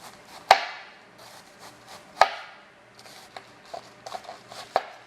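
A knife slices through cabbage on a cutting board for a stir fry: a few sharp, close cuts, spaced apart, with lighter taps and scraping in between.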